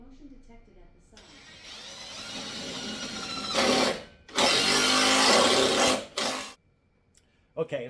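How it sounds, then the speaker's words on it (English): An impact gun drives a bolt into a wall joist while mounting a heavy-duty pull-up bar indoors, giving a loud rising whir and then two sustained bursts of harsh hammering, with a brief burst afterward. "as I started drilling, I realized that it's really loud"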